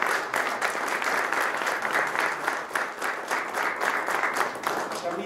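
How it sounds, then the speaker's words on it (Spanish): Steady applause from an audience at an exhibition of handcrafted artisan products, dense and sustained across the whole stretch with an even, continuous patter of many hands. "Compañeritas, vamos a darles un aplauso."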